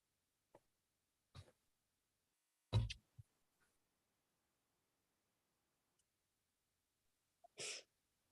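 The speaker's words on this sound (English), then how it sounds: "I've been sneezing uncontrollably the whole time." A single sharp human sneeze bursts out near the middle of an otherwise quiet room, surrounded by a few faint breaths, small clicks and a short exhale later on, with no talking.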